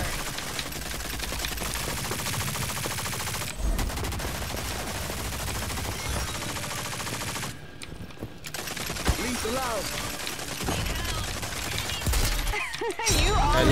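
Pistol fire in the shooter game Rogue Company, repeated gunshots and bursts over a busy game soundscape, with players talking over much of it.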